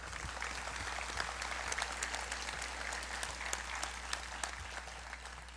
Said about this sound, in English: A round of applause again, please,